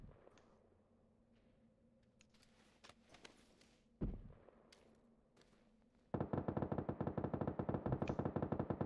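Gunfire in the video game PUBG, with scattered distant single shots and thumps giving way to a loud, rapid automatic burst that keeps rattling to the end.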